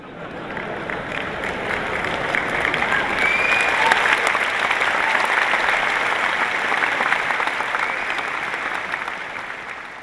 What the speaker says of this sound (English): The sons are clapping